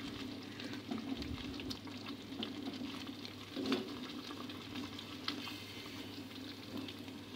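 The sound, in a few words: frying sliced tomatoes in a karahi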